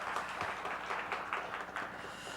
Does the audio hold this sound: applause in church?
yes